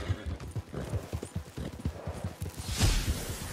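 A horse gallops during a multiplayer race in Red Dead Redemption 2 Online, its hooves thudding in a fast, steady rhythm close by, with a brief swish of motion toward the end and no talking.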